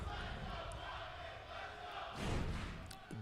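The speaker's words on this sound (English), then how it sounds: "The entire crowd is rumbling." A large crowd at an esports tournament rumbles with a continuous wash of cheering and shouting, swelling louder near the end, with an announcer's voice over the top.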